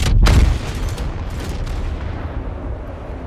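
A cannon in the Apex Legends video game fires once with a heavy boom, followed by a dull rumbling decay and distant noise of the game's battle.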